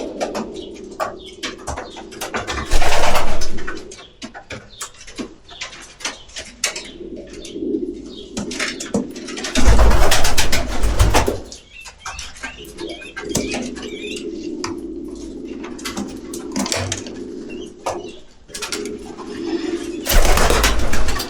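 Palamar pigeons coo in long, drawn-out, resonant tones close by, with repeated calls, occasional wing flaps and brief louder bursts of movement in between.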